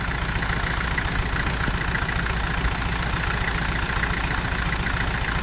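An IH B275 tractor engine runs close by at a steady idle, a continuous low, throbbing diesel chug that holds even throughout with no pauses.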